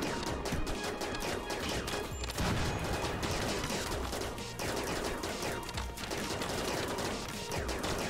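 Sustained rattling gunfire from a firefight in the RimWorld video game, with rapid overlapping shots packed densely through eight seconds and occasional harder cracks, at a steady moderate level with no voices.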